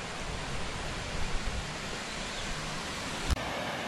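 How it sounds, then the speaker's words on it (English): Waterfall at Las Marias, Puerto Rico, heard from a distance above as a steady broadband rush with a brief knock near the end. "That's a beautiful waterfall."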